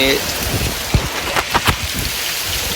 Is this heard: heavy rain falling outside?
yes